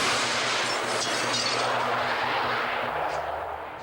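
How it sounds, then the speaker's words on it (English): A sonic boom from a plane rolls through as a loud, sustained broadband roar with a rumbling low end, fading slightly at the end. "that is what you call a sonic boom"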